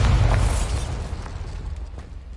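An Incendio fire spell blast in the video game Hogwarts Legacy: a loud, deep whooshing burst that starts at full strength and slowly fades over a couple of seconds.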